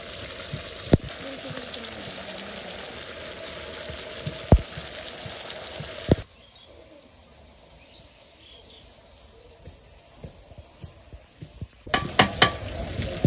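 Broiler chicken meat fries and sizzles in a pan while being stirred, with scraping and sharp clanks of the utensil against the pan up close. The sizzle quiets midway, then clatter returns near the end.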